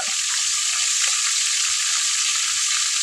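Chicken and mutton curry simmers in a pan, giving a steady, close, even sizzle with a faint bubbling texture and no talk.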